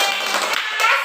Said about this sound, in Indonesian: Tepuk tangan buat Ibu Yuni.